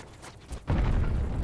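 A single deep cannon boom in a video game, preceded by faint background noise, hitting hard and then rumbling on for a moment.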